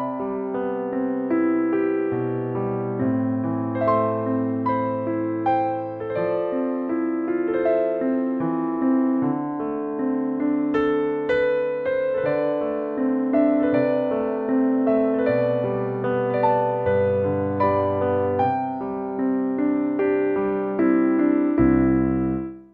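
Kurzweil MP10 digital piano played solo in a home setting, a continuous flowing passage of melody over mid-range chords and bass notes, steady and close with no voices.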